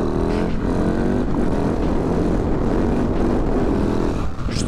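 A motorcycle ridden on its rear wheel along a dirt field track, its engine droning loud and steady with slight revving swells close by.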